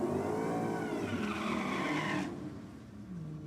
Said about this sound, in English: did I just hear what sounded like a supercharger or a Gilmer drive on that Commodore